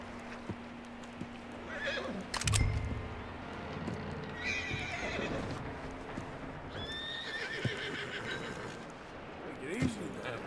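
A horse in Red Dead Redemption 2 whinnies several times amid clip-clopping hooves and game ambience, with characters talking over parts of it.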